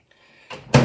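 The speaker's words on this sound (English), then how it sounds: "Door open." A door opening: a faint creak, then a soft shuffle and a louder thud or clunk as it swings, all short and close by.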